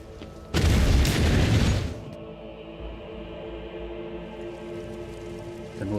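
A melta charge demolition blast in the video game Warhammer 40K Rogue Trader: one loud, broad booming explosion lasting about a second and a half, then a fading rumble over a low game music bed.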